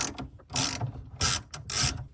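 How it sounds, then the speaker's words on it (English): A stubby flex-handled ratchet on a long extension and 10mm socket loosens the battery terminal fixing on a Jaguar F-Type. A few short bursts of rapid pawl clicking come close up with brief pauses between them. "a 10mm socket and a ridiculously long extension and a stubby little flex handled ratchet"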